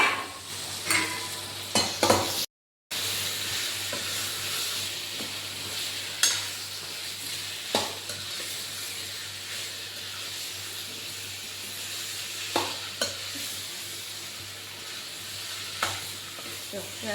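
Potatoes fry with garlic chutney in a pan, giving a continuous hissing sizzle with occasional clinks and scrapes of stirring, close and moderately loud, with no talking.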